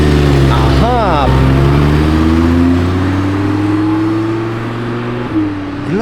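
A glossy black Lamborghini Huracán Tecnica passing close by, its loud engine note rising and falling as it goes past, while a voice speaks over it.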